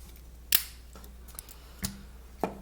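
The small spring-loaded scissors on a Victorinox SwissChamp pocket knife snip several times, giving sharp, close clicks spaced irregularly over a quiet background with no talk.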